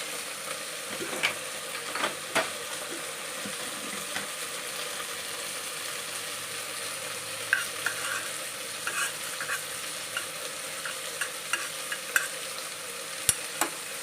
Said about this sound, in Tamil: வெந்தயத்தை வந்து அடுப்பில் பொறிச்சு எடுத்துக்கலாம்